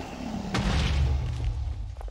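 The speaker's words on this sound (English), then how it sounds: "He's just fire charged me." A fire charge blast in Minecraft during a bed-breaking match, one low booming rumble that swells and fades over about a second, with faint clicks around it.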